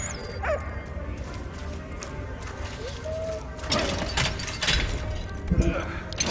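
A dog in the video game Valiant Hearts barks and yips with a couple of short calls, heard over game music and effects while a person talks.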